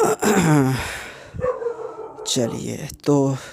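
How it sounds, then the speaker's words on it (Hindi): Dogs bark and howl nearby in bursts, their yelping calls mixed in with someone talking. "जब तक देखिए कुत्ते भौंक रहे हैं"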